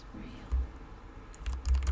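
Typing on a computer keyboard while coding a game AI, heard as a few quick clusters of soft key clicks near the end over a quiet room hum.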